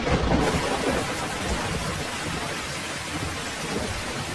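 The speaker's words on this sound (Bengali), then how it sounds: "কিন্তু বৃষ্টি তখনও থামে না" Heavy rain pours steadily with thunder rumbling through a night storm in a Bengali cartoon, a dense, loud, continuous downpour with no voices.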